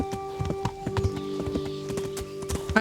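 Horse hooves clip-clop steadily while riding in Kingdom Come: Deliverance, a brisk, even rhythm of hoofbeats close by with a faint background tone and no talking.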